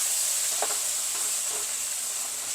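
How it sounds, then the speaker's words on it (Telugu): Cumin seeds frying in a pan give a steady, even sizzle with faint stirring scrapes, close and moderately loud, with no voices. "దీంట్లోనే ఆ జీలకర్ర ఇప్పుడు వేయించినాం కదా"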